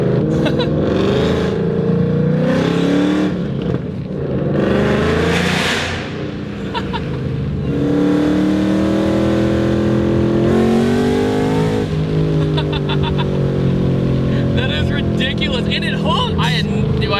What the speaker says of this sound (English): You notice though, not a lot of supercharger whine. It's just mostly motor, but that's probably mostly because of the exhaust.